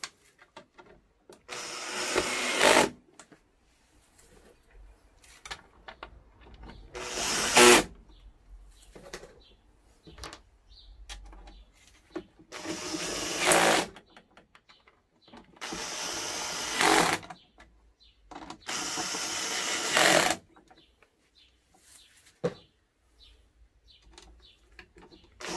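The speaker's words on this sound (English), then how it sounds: "And pop the screws in." Power driver running screws into an inspection hatch cut in a VW campervan, five separate whirring bursts of one to two seconds each, close and fairly loud, with quiet handling noises between.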